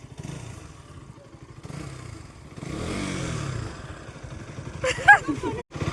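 A motorcycle engine idles and revs at a moderate distance, partly masked by people talking and calling out nearby, with a clattering bump near the end.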